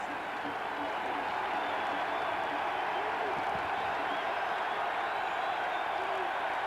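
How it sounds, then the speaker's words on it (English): A large college football stadium crowd keeps up a steady roar of cheering and hollering, dense and continuous, with no single voice standing out. "The crowd starting to make a little bit of hoot and holler and noise."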